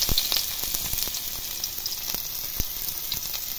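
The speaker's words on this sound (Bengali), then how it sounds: "তেলের মধ্যে দেব পেঁয়াজ" Onions hit hot oil in a wok for stuffed onion pakoras, giving a bright, steady sizzle close by, dotted with irregular spitting pops.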